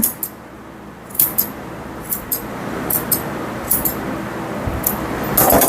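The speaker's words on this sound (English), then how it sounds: "Take my curved scissors and round the ends of his foot." Curved grooming scissors trim fur around the foot of a mixed breed dog, giving a series of short, crisp, close snips in small clusters over a quiet background.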